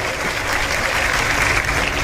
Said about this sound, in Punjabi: ਇੱਕ ਵਾਰੀ ਆਪਦੇ ਲਈ ਤਾੜੀ ਮਾਰ ਲਓ ਮੇਰੇ ਬੰਦੇ